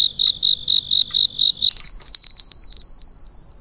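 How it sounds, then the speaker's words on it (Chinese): A small jingling bell tied at a boy's waist in the horror game 鬼游, shaking in about eight quick bright rhythmic bursts, then one clear sustained ring fading slowly. "那个男孩子腰上系着铃铛，之前听过这个声音，原来是这个啊！"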